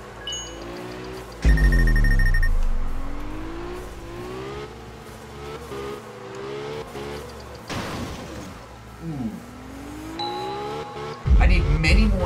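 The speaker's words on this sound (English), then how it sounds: "let's see if we can drift around these bigger circles" A car drifting in Absolute Drift, its engine droning and repeatedly rising and falling in pitch as it revs, with bursts of tire squeal and a loud surge near the end, while someone talks intermittently.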